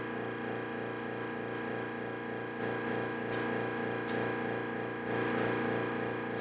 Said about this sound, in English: The air compressor came on.